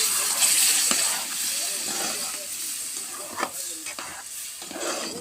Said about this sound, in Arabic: نزل عليها بسم الله الرحمن الرحيم بالطماطم.